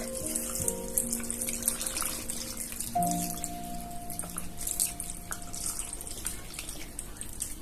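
Water sloshes and gurgles inside a plastic lasagna white-sauce bottle as it is shaken in a kitchen. The liquid splashes continuously and fairly quietly, with a few faint tonal ringing sounds underneath.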